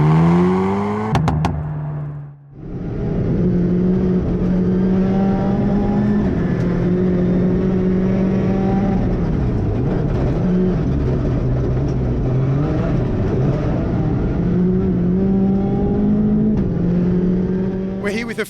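Hyundai i20 R5 rally car engine running on a Tasmanian test, a loud close drone rising and falling through revs and gear changes for most of the stretch, with a brief dip early on and voices talking over it.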